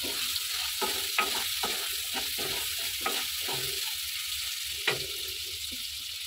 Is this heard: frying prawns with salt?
yes